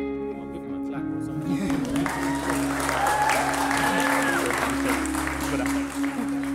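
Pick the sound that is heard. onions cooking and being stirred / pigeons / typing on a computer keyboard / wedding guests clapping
wedding guests clapping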